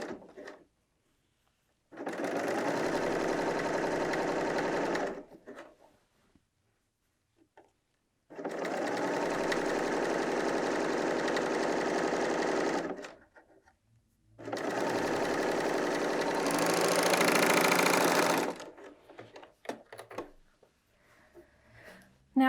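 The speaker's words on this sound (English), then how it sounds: "Then I'm going to start sewing my second shoulder." A BERNINA L 890 sewing machine stitches a shoulder seam on a knit top in three long, steady runs of several seconds each, separated by silent pauses, with a faster, brighter burst closing the last run.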